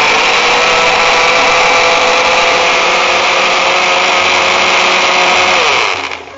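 A kitchen mixer grinder whirs loudly and continuously, grinding spices and coconut for mor kulambu, a steady high motor whine that winds down and stops at the very end.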